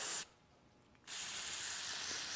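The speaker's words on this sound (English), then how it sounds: "We're just going to spray that." Carburetor cleaner is sprayed onto a carburetor in two close, loud hissing bursts: a short one, a brief pause, then a longer steady spray.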